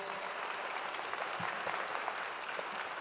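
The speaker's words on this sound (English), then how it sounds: "Give our judges a wonderful round of applause" Quiet, distant applause from an audience at a Law Day community event honoring judges, a continuous soft patter of many hands clapping at steady, low volume throughout.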